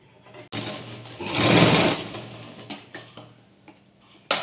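A sewing machine stitches a seam of a garment in a short whirring run, its needle ticking before and after, close and clear with no talking.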